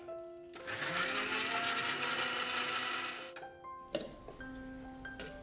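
A mixer grinder blending oranges whirs loudly for about three seconds, a dense high-pitched buzz, then stops, followed by a few clinks and lid handling.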